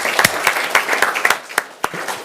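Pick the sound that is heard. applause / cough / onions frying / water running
applause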